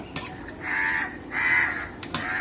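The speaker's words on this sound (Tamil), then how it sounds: "இந்த பீஸ்லாம் வந்து காக்கா எப்படி கேட்ச் பிடிப்பாங்க பாருங்க" Crows caw loudly nearby while catching scraps of food tossed to them, giving two drawn-out harsh calls plus a few shorter clicks and flaps, with no talking.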